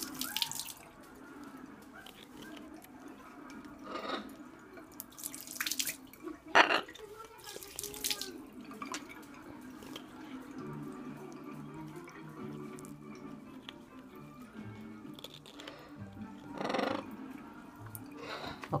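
Tap water runs quietly in a home kitchen, a soft steady trickle with intermittent splashes and clinks, while someone talks in Spanish over it.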